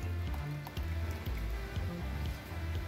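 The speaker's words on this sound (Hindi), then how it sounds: "अब इसमें डालेंगे इमली का पानी" Tamarind water poured into a pot of dal, a steady liquid splash and trickle close by, running continuously for a few seconds with faint clinks of a vessel.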